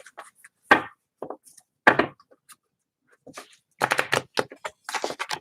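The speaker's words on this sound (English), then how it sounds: "And I'm just shuffling real quick" A tarot card deck is shuffled quickly by hand up close, giving several short, crisp bursts of riffling and tapping separated by pauses, with quicker clusters near the end.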